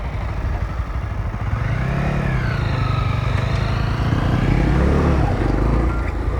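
A Honda CBR 300 motorcycle being ridden, its engine droning steadily and rising in pitch as it revs and accelerates, loud and continuous, with wind noise and no talk.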